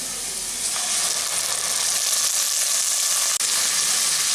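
Intense, constant sizzling and hissing of ginger-garlic paste frying in hot oil, close and loud, with a brief sharp click near the end.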